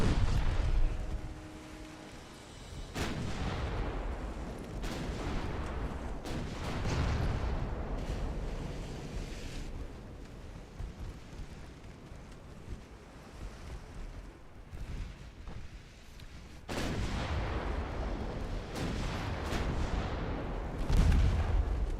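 Heavy naval gun salvos in the warship battle game Ultimate Admiral Dreadnoughts, several loud booming blasts with rumbling tails spread across a sustained roar of sea and battle noise.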